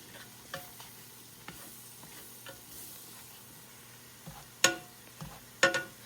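A whisk working flour and butter in a pot into a browning roux, quiet scraping strokes with a few sharp clinks of metal against the pot near the end, close and fairly soft.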